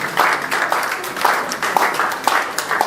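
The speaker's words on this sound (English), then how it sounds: "keep clapping for him." An audience at a Nigerian Society of Engineers ceremony claps for Engineer Akim Okubabi, a moderately loud, continuous patter of many hands with a few sharper claps popping out now and then.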